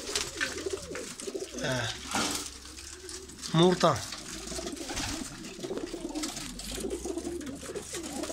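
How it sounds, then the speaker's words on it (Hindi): Pigeons kept for sale coo in low, throaty bursts nearby, one rolling coo standing out, under someone speaking steadily over faint background hiss. "बाकी वड्डे कबूतर ने वेखो"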